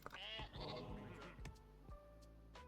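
Sheep in the Northgard strategy game bleat in a loud, wavering cry up close, followed by quieter overlapping bleats and soft game clicks over a steady low background.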